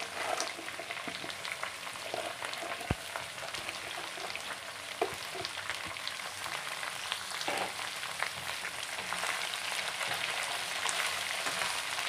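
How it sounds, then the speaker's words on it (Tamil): Shredded cabbage sautés in hot oil for kurma. The steady crackling sizzle continues throughout, with an occasional clink or scrape of stirring. "இப்போ இது எண்ணெயில் சேர்த்துக்கலாம் சேர்த்துட்டு நல்லா எண்ணெயில் வதக்கிக்கணுங்க"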